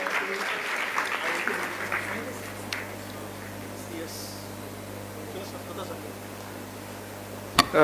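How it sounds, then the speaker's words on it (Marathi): Sustained applause from an audience welcoming a former student to the stage at a school event, a dense steady clatter of clapping that tapers off toward the end, with a steady low hum underneath. "एकदा जोरदार टाळ्या वाजवून आपण आपल्या या माजी विद्यार्थ्याचं स्वागत करूया"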